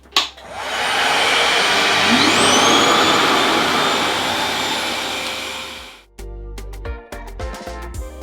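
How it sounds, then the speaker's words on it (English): A hair dryer blows hair out in a loud, close, steady whoosh for about six seconds, then cuts off abruptly, leaving a few light handling clicks and knocks. "All right, so I've finished blowing my hair out."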